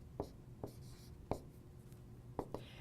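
Chalk or marker taps and scratches on a board as equations are worked through, with a handful of brief, faint strokes spaced irregularly across a quiet room.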